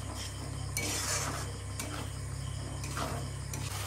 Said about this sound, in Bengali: মশলাটাকে একটু মাখিয়ে নিই